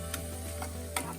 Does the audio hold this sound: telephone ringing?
no